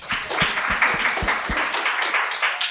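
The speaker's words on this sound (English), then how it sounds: "so please give them a round of applause." Audience at a conference session on gender equity in research claps for the panelists, a lively burst of applause with distinct hand claps that thins out toward the end.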